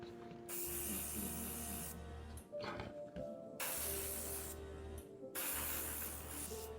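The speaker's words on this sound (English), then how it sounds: "You simply have to spray some black paint in all the cracks and it will create a fake shadow for the first real coat of paint." Aerosol spray can hissing in bursts as black paint goes into the cracks of a 1:35 scale Airfix M10 tank destroyer model, three long sprays separated by short pauses with faint clicks and handling noise between them.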